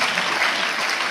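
A school audience claps loudly to welcome officials coming onto the stage, a dense burst of steady applause filling the whole moment with no voices.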